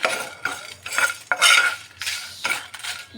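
Whole cumin, five-spice seeds, dried chilli and pepper powder are dry-roasted in a pan. Quick, close bursts of rattling and scraping come as a spoon tosses the spices against the metal, with short gaps between strokes.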